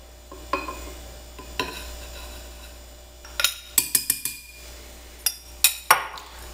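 A utensil beats pão de mel cake batter made with wheat flour in a bowl, giving sparse, light clinks and taps that grow into a quick cluster of sharp knocks against the bowl.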